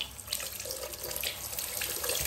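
Water runs from a tap in a small airport bathroom in Tanzania, a faint, steady splashing hiss that flows continuously without pause.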